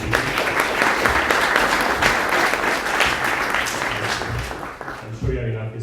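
Audience applause for the speakers at a hackathon talks event on autonomous agents: dense, steady clapping from a crowd that fills the room, with a voice briefly coming in as it fades at the end.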